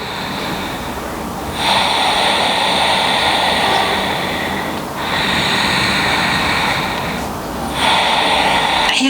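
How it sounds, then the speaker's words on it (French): Slow, deep breaths drawn through the nose during a gentle postpartum yoga routine, three long airy swells, each held for a few seconds, close and steady with no talking. "On prend simplement quelques respirations ici en essayant d'allonger la respiration par le nez."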